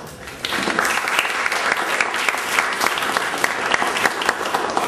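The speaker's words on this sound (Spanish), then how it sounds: "vamos a recibirlo con un fuerte aplauso" Audience applause welcoming a speaker at a literary talk on children's literature, a dense, steady wash of many hands clapping that swells after a brief softer start and holds loud and even throughout.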